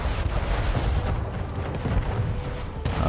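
Mortars firing and shells exploding during a naval battle in the city-building game Anno 1800, heard as a dense, continuous roar of heavy booms and rumbling blasts with no voices.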